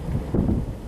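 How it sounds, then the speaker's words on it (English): Outdoor wind gusts buffet the microphone with a low, steady rumble that swells partway through, with no talking. "Wind's kicking up, wow."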